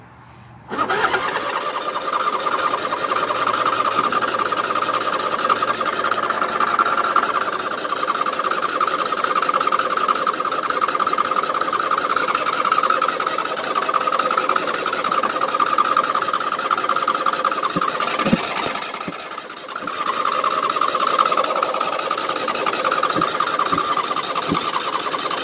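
A 2007 Husqvarna YTH2454 riding lawn mower engine cranks and catches, then runs at a steady loud idle close by, with a brief dip near the end before it settles again.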